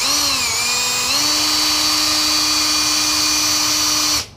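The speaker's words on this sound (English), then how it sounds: "Drill my 2 lead holes." A power drill whines loudly and steadily, its pitch stepping up once as it bores lead holes through a thick plastic PVC enclosure, then cuts off abruptly.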